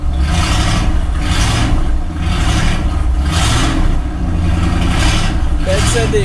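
An old Chevrolet C10 truck engine runs steadily with a rough, blatty exhaust, a loud and continuous low drone with slight throttle swells throughout, recorded close by.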